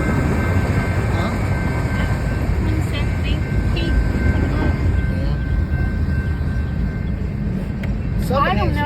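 A BNSF freight train passing close by, a loud, continuous rumble and rattle of rolling cars that holds steady throughout, with a brief voice near the end.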